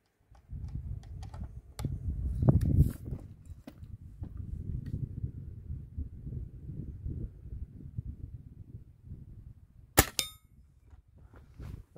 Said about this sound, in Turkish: Ve son atış, 5. atış. Tam o Pro Magnum ile.